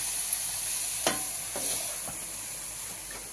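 Chopped bottle gourd sizzles with a steady hiss in a hot pan, broken by a few scraping stirs of a spatula, close and even with no talking.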